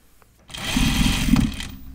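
A sewing machine roll hems a skirt in one short, fast burst of stitching, a close buzzing whir that starts abruptly and stops after about a second.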